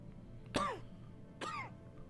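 Two separate throat-clearing coughs from a character in the video game Deus Ex: Human Revolution, the first sharper and louder, the second a beat later, close up with no talking.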